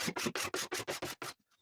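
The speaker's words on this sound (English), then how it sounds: "I'm starting the fairing process by scraping off the high points and then I'll be giving it a bit of a sand before applying the filler" Rhythmic back-and-forth scraping and sanding over high points on a boat hull being faired, seven or eight even rasping strokes close by, then a brief pause and a faint stroke.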